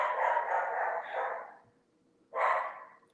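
A puppy barking and yipping indoors, a drawn-out noisy bark sequence followed by a pause and one more loud bark, close and alone without talk.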